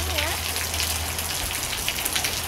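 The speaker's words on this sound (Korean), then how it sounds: "비가 너무 많이 와서 큰일 났어." Heavy rain pours down in a steady, dense wash of patter, constant and fairly loud throughout, with a low hum underneath.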